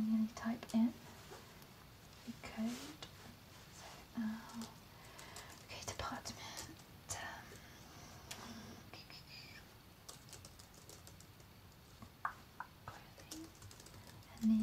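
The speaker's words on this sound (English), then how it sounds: "I've got to manually type in the code." Fingers type a code on a computer keyboard in a quiet shop setting, a scatter of soft close key clicks in short bursts, with gentle whispering running over them.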